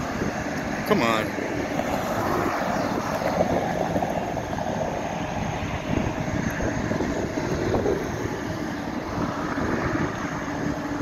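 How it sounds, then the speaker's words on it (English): Passenger jet taking off at LAX airport, a loud continuous engine roar and rumble that holds steady for about eleven seconds, heard from nearby outdoors, with people talking in the background. "There's the other plane coming."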